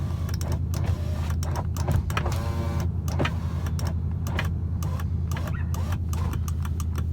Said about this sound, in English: It's a pretty loud sucker. Got a magnet flow muffler on it.